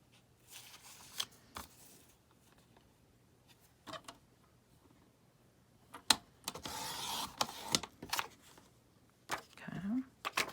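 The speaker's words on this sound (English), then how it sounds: "I take my little cutter, because I'm not the best at cutting straight lines" A small paper cutter trims a craft tag in a series of brief scraping slides and clicks, quiet and close. A denser rasping stroke comes midway, and soft talk runs underneath.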